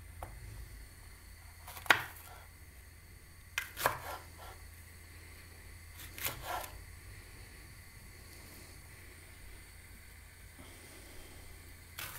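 Peppers being chopped on a board in a home kitchen, a few sharp separate knife strikes spaced seconds apart over quiet background hum.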